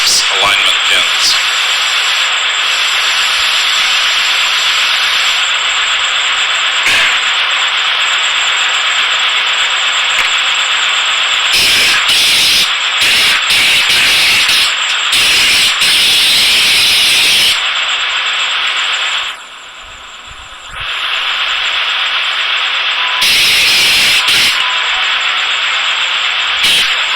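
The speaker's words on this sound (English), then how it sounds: "Constantly uses a compressed air nozzle to blow away loose sand." A compressed air nozzle blows loose sand from a foundry sand mold in a broad, loud hiss. The hiss comes in long bursts broken by short gaps, with talk heard at times.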